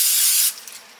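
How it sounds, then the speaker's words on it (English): Nonstick cooking spray hisses from a can into a ramekin in one steady, close burst of about half a second, then cuts off, leaving faint handling noise. "you want to take your dish or ramekin and you want to spray it with some nonstick cooking"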